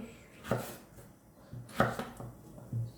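Three firm knife chops land on a cutting board as potatoes are cut into small cubes, spaced about a second apart, close and fairly quiet.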